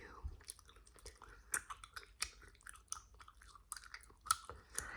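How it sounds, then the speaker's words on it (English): Soft bubble gum is chewed right at the microphone, giving wet, squishy smacks and clicks in an uneven rhythm, quiet and intimate, with some soft speech mixed in. "It's softer than like my Trident gum that I normally chew"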